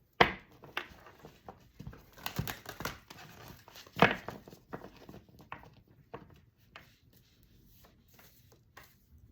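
Tarot cards shuffled by hand, a run of crisp, irregular riffling and slapping bursts close up, with louder snaps near the start and middle and softer flicks trailing off, no talk.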